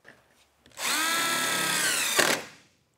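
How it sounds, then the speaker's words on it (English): Power tool tightening hinge bolts on a snowmobile trailer, a steady whirring burst of about a second and a half that begins abruptly, holds an even pitch and then cuts off, close and loud with no talk. "You just use your ratchet, boop, boop, boop."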